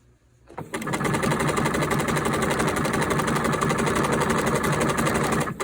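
An old sewing machine runs steadily, stitching a sweatshirt quilter's coat at the shoulder seam; a loud continuous mechanical whir starts after a brief quiet moment and holds without pause.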